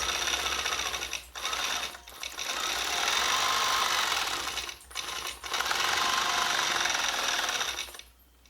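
A longarm quilting machine stitches a quilt-as-you-go block with sashing, giving a steady, fast mechanical chatter with a buzzing whir. It runs in long bursts broken by brief pauses, close and fairly loud, with no talk.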